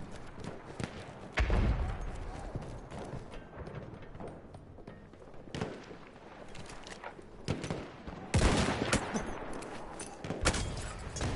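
Pistol and rifle shots in Battlefield 1 on a busy battlefield: scattered sharp cracks and thuds, a few louder near shots standing out from distant gunfire and background rumble.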